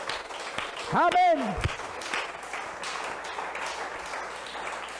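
Congregation applauding during a church service, a steady wash of clapping throughout, with a voice calling out briefly near the start and talk over the applause.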